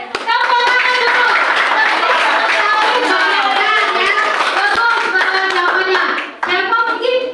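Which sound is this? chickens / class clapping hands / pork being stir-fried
class clapping hands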